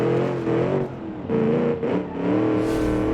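Australian muscle car in BeamNG with a deep, rumbling engine that revs up and eases off in several surges, loud and close throughout, with no talk over it.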